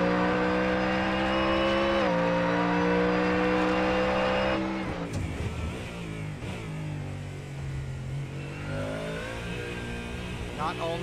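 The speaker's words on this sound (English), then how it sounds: "That Ford Mustang, my most favorite sounding GT3 car" A Ford Mustang GT3 race car in a racing game roars at high revs through a long loud pull, shifts, then drops into lower, rougher engine tones during downshifts, with a commentator talking over it.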